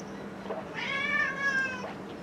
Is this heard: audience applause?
no